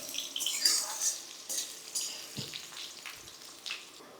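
Potatoes frying in oil in a pan for a fish and vegetable labra, a quiet close sizzle with uneven crackling bursts and a few soft knocks, fairly faint and without talking.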